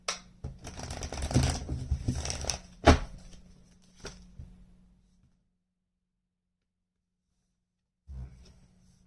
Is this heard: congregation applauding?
no